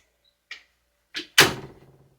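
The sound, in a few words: door being shut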